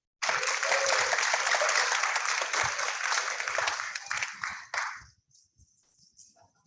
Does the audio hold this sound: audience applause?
yes